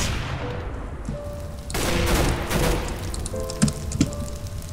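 Gunfire in the Minecraft Mine Strike game mode, a counter-strike style match, plays as a steady fusillade of rapid shots with a few sharper single bangs, at moderate level and with no talking.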